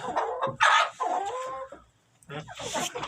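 Roosters in a chicken coop let out loud, close squawks and clucks in uneven bursts, with a brief quiet gap before another squabbling flurry.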